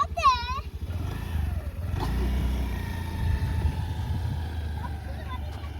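A Honda Activa scooter engine runs with a steady low rumble that lasts through the whole stretch, joined by a short rising whine near the start and a brief surge partway through.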